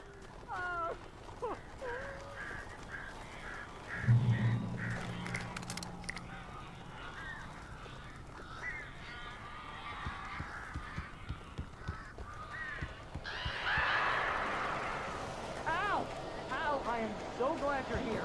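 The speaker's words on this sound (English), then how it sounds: "These birds are weird." Crows cawing in the video game Alan Wake Remastered, a series of harsh caws scattered over a busy game soundscape, joined by other rasping bird calls and some talk.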